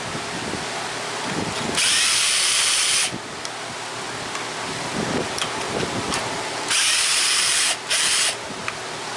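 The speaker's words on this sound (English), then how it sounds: "Got a 5/16 deep well socket. It's got 3 bolts that need to come out. I may need a ratchet for this." A power tool, likely a drill, working a 5/16 deep well socket on the bolts of a Craftsman pressure washer. It runs loud and close in several bursts with a hissing whir, separated by quieter handling noise.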